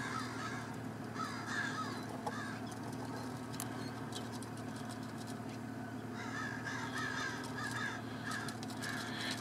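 Crows, magpies, ravens and starlings calling and cawing around a large predator at a carcass, outdoors; scattered caws and chatter over steady background ambience, moderately distant.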